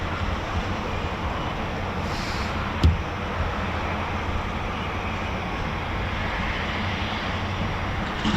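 Eurofighter Typhoon FGR4 jets circle over RAF Coningsby in Lincolnshire, a continuous broad roar of distant jet engines with one brief sharp knock partway through.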